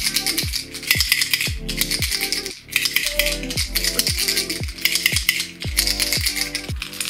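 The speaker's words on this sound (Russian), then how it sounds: "Что касается шумовой камеры данных воблеров, у оригинала она позвонче." The rattle chamber of a Strike Pro Challenger X Deep Diver 110 trolling lure is shaken hard, giving a fast, loud, bright clatter of loose balls in rhythmic bursts, close and continuous.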